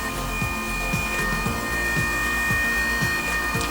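A cordless massager running close by, a steady loud motor whir with a regular pulsing thump about twice per second, continuous and with no talking.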